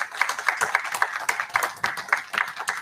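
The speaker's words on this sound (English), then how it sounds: "please join me in a round of applause for our newest American soldiers" Applause from families and guests at an army basic training graduation ceremony, with distinct rhythmic claps standing out from a moderate crowd, steady and fairly close throughout.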